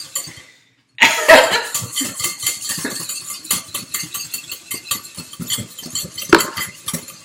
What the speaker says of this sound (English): That's about 10 minutes worth. Of whisking.